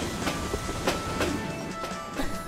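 A cartoon train runs along its rails with a steady, close clickety-clack of wheels over the track joints, rumbling on its own with no voices.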